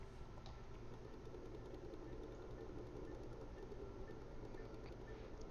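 A train in the video game Astroneer rolls along its track with a quiet, steady mechanical hum and rumble that holds constant throughout.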